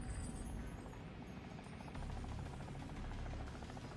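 A video game helicopter drones on steadily with a dense, continuous rotor-and-engine roar that stays loud and close for the whole stretch, with no one talking over it.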